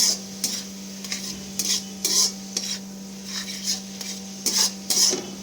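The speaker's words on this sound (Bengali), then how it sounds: "তারপর সব কিছু ভালো করে একসাথে মিশিয়ে নেব" Ginger garlic paste stirred and fried in a pan: a steady sizzle broken by a series of sharp, repeated scraping strokes of a utensil against the pan, near and clear, with no talk.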